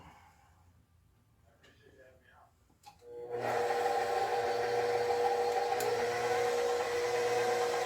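A stand mixer starts up partway through and runs steadily and loudly, churning sugar-free cookie dough with a constant whir after a quieter opening with faint handling noises.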